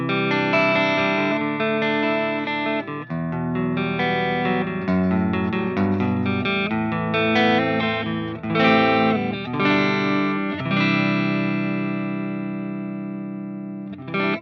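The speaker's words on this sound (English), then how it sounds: "this is what the amp sounds like with no overdrive in front of it." An electric guitar through a clean BIAS Amp 2 virtual amp with no overdrive plays chords and melodic lines with a clean, slightly effected tone and light reverb, continuous and fairly loud.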